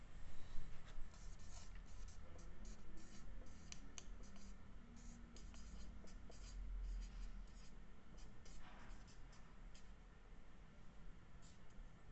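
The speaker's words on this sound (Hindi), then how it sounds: "तो हम यहाँ पर ये पॉइंट भी लिख लेते हैं" A pen writes a point down on paper or a board, making a steady run of scratchy strokes and small taps, close and quiet, over a faint background hiss.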